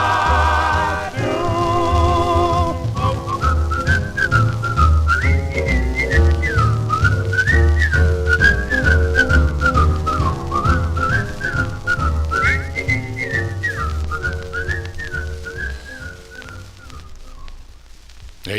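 A 1954 doo-wop record plays steadily: a lead vocal carries a wavering melody over close group harmonies and a soft rhythm backing, loud and continuous throughout.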